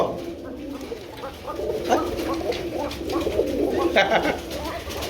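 Pigeons coo at a Bangladeshi bird market where pairs are sold, several birds overlapping in low, rolling calls that continue throughout, with a faint dog bark and distant voices in the background.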